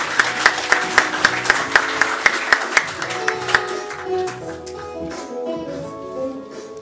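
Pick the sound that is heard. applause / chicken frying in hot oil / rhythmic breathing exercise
applause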